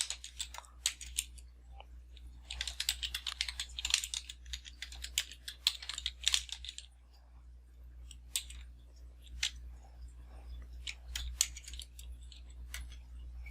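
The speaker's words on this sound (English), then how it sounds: "I do this all by keyboard." Rapid keyboard typing in bursts of clicky keystrokes, close up, with a brief pause midway and a steady low hum underneath; no voices.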